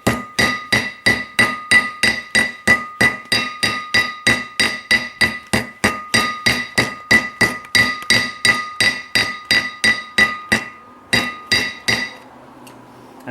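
Rapid, steady hammer taps on metal, seating a front wheel bearing seal on a 1997 Ford E150, dozens of sharp ringing strikes in quick succession, loud and close, ending with a brief quieter hiss.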